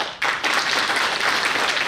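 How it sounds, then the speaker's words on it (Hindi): An audience at a distributor training session bursts into applause, dense steady clapping that starts suddenly and holds strong for nearly two seconds. "ताली बजानी तो खुल के बजाओ, मूंगफली मत करो,"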